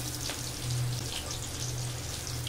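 Potato pieces frying in oil seasoned with salt and turmeric, a continuous close sizzle and crackle with a low steady hum underneath.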